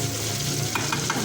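Chicken karahi fries and is stirred in a pan, a dense close sizzle with a few quick scraping strokes toward the end.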